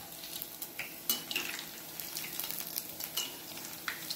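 Bonda balls fry in hot oil and get flipped partway through: a soft, steady sizzle broken by a few sharp clinks and scraping taps from a utensil in the pan.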